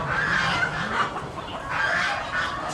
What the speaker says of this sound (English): All sorts of red roosters.